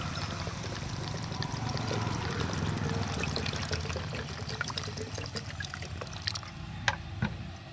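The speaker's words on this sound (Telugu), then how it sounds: "వాటర్ పోస్తున్నాయి ఇప్పుడు వాటర్ పోసుకోవాలన్నమాట మనం" Water pouring into a pot of country chicken curry on a wood-fired stove, a steady trickling splash with scattered clinks and drips, nearby and fairly soft throughout.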